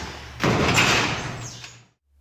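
A garage door catches and drags on gunked-up side weather seals, giving a loud scraping, grinding rush that starts suddenly, fades over about a second and a half, and ends in silence.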